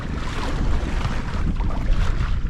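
Steady wind rushes past a sailboat out for an evening sail in roughly 7 to 9 knots of breeze, a broad continuous roar with low buffeting and faint water wash, no voices.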